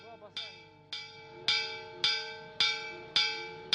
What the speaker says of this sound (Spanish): Se llama con una campana, tradicionalmente se llama con una campana